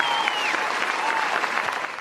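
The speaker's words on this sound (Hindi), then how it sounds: "मंत्री जी के सम्मान में जोरदार तालियां बजा दीजिए।" Crowd applause at an Independence Day (15 August) school gathering in India, honouring a visiting minister; dense, steady clapping fills the whole stretch at a fairly loud, even level with no voices over it.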